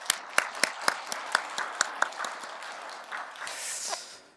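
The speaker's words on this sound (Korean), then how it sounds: "찬양 하나님께 영광의 박수 다시 한번 돌려드리겠습니다." A church congregation claps at a Sunday service after a choir performance, a series of distinct, evenly spaced hand claps that loosen into scattered applause and fade toward the end.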